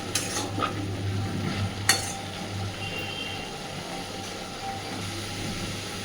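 A spatula stirs snake gourd and prawns in a pan, a few scraping strokes early on over a soft, steady frying sizzle, with one sharper metallic scrape before the sound settles into quiet sizzling.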